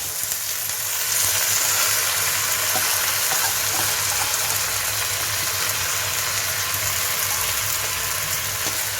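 Washed, drained masoor lentils frying with onion in a pan, a dense, even hiss of sizzling oil that swells after the first second and holds steady, with faint stirring underneath.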